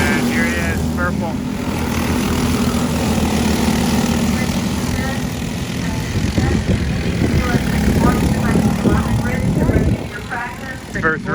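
Go-kart engines race around a track, with a steady buzzing drone of small engines sustained throughout and swelling near the end, while a voice talks over the noise.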